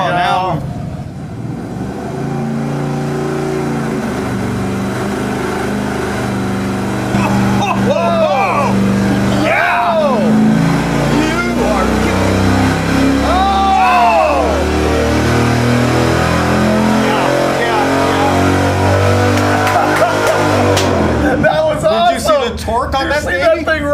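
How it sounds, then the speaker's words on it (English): A 383 Mopar V8 on an engine dyno climbs through a full pull, its rising engine note sweeping upward with harmonics before cutting off near the end; people talk over the running engine. "That was the very first dyno pull that we made with the 383 Mopar, and it was a legit nail biter."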